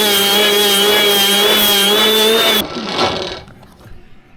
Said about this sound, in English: Now I just got to clean up around the edges with the end grinder here, because there's a little bit of a burr in there.